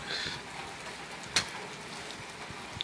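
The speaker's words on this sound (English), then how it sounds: "So, it's raining so hard, you know." Rain falling hard outside, with drops striking a back door, steady and soft in the background, plus one sharp knock or tap near the middle.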